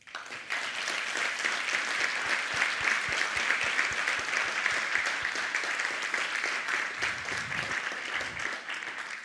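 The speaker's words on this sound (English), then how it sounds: "One big round of applause, please." An audience applauds warmly after a talk about developing an app and founding a company. The clapping is dense and continuous for about nine seconds, starts abruptly, and picks up a few low thumps near the end.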